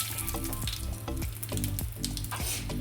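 Peanuts fry in hot oil in a pan for a bitter gourd curry, giving a dense, steady sizzle with scattered spoon scrapes and clicks throughout.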